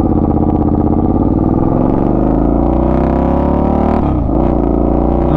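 A Suzuki SV650 motorcycle's engine hums loudly and continuously while being ridden, with a brief dip and rise in revs near the end.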